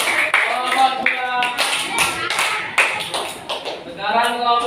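A class of students claps for a group in a classroom, scattered sharp hand strikes mixed with children's chatter and shouting voices throughout.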